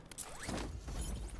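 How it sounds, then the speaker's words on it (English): A weapon reload in the Call of Duty video game comes as a quick mechanical rattle and metallic slide-and-snap, loud and close for about a second and a half. "Let's reload."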